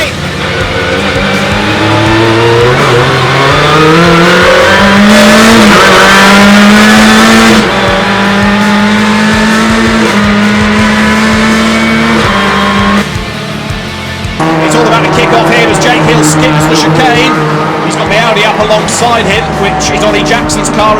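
British Touring Car Championship cars roar away from the race start at Croft, engines revving hard in a dense, loud pack with rising and shifting pitch, under continuous commentary.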